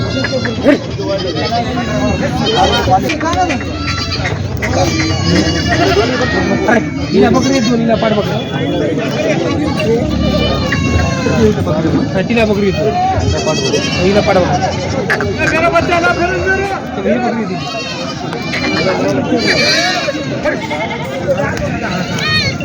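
Local village goats bleat repeatedly amid a loud crowd of people talking and bargaining, the wavering cries rising over continuous chatter at a busy weekly goat market in Vasmat.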